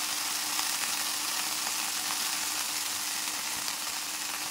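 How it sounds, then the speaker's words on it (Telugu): Drumstick flowers frying in hot oil with tomatoes and green chillies, giving a steady, close sizzle that runs unbroken and evenly loud throughout, with no talking. "క్రిస్పీగా వేయించుకోవాలి. వేగిన తర్వాత మునగ పువ్వు వేసుకోవాలి."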